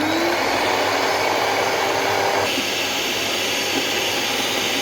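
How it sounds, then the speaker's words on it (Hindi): An electric hand beater whirs steadily through two egg yolks for a floating soup, a loud, continuous high-pitched motor drone close up with no pauses. "यहाँ मैंने 2 अंडे की जर्दी ले ली है। बीटर की मदद से मैं अभी बीट कर लूँगी अभी।"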